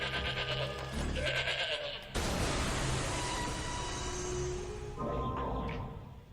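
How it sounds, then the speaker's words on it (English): A goat in the game Shadows of the Damned bleats loudly in repeated wavering cries, mixed with game music and a sudden burst of noise partway through. "There's the goat"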